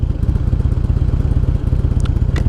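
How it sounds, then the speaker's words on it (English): A motorcycle engine with newly fitted injectors idles steadily close by, its low, even chugging pulse running throughout with light mechanical clatter and a faint high whine near the end. "since I put those new injectors in, she's really idling so much nicer now."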